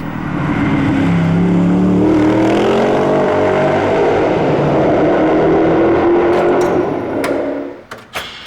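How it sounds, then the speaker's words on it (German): The Corvette V8 engine of a Mosler MT900 race car revs hard and loud for several seconds, pitch rising and falling, then cuts off abruptly near the end. "Das ist schon tierisch, was man aus so einem Corvette-Motor hier alles holen kann."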